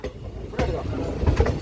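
Train running on the Punalur–Aryankavu line in Kerala: a steady low rumble with rhythmic wheel clatter, moderately loud and continuous, with faint voices now and then.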